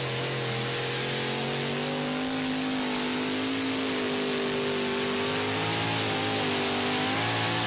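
A pulling tractor engine from the 1998 Fox Team Larsen season held at high revs, a loud sustained roar with steady tonal harmonics that waver slightly but never drop.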